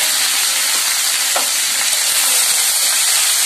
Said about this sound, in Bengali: ভালো করে ভেজে নিচ্ছি শাকটা।